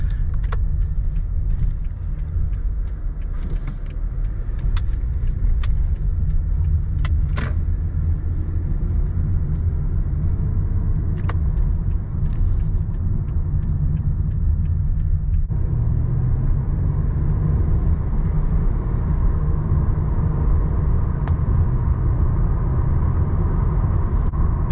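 A nearly 16-year-old car drives along with a steady low engine and road rumble throughout, plus occasional light rattles and clicks inside the cabin, with no talking.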